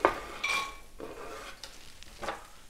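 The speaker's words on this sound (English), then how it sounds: "Into the olive oil, I'm gonna add the walnuts" Walnuts tumble into hot olive oil in a small pan, a quick clatter followed by light sizzling and a few soft stirring scrapes, close and fairly quiet.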